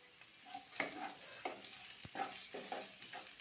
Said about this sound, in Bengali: এবারে একটু ভালো করে ভেজে নেব